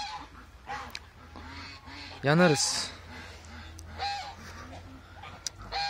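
Young male geese in a farmyard flock honk loudly in uneven bursts, one especially loud close honk rising above the rest, with other fowl calling and a person speaking briefly nearby.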